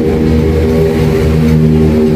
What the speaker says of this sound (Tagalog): motor ni Purman